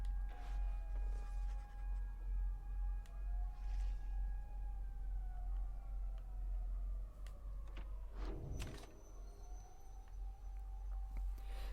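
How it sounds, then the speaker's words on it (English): Emergency vehicle sirens wail faintly in the distance outside, long drawn tones sliding slowly in pitch over a low steady hum, with scattered small clicks and no talk. "Apologies for the siren in the background."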